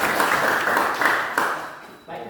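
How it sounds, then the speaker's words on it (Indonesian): Students in a classroom clap for a classmate, a brisk burst of applause with a few sharper individual claps that thins out and fades near the end, followed by a brief voice. "beri tepuk tangan"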